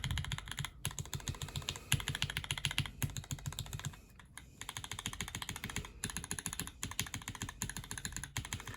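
A mechanical keyboard fitted with GMK keycaps, a Tera Drive set, is typed on quickly and steadily, producing dense, close clacking keystrokes with a brief lull midway and short gaps between bursts, no voices.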